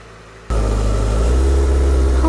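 A Honda CBR1000RR sport bike's engine kicks in after a brief quiet moment and holds a loud, steady, close-up rumble with a low throb as the clutch is eased out.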